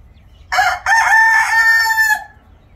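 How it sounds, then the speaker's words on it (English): A rooster crows once nearby, a loud drawn-out cock-a-doodle-doo lasting about a second and a half with a brief break near the start, over faint low background noise. "He's talking back and forth to the other rooster."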